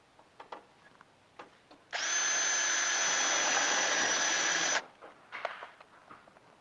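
A rivet tool setting a rivet in an aluminum car B pillar, one loud steady whine lasting about three seconds, framed by quieter clicks and handling taps before and after.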